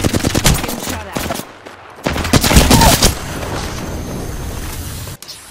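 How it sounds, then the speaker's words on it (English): Gunfire in the video game Apex Legends, loud rapid automatic bursts with booming shots in the first few seconds, followed by a steady rumbling game ambience. "Getting shot at."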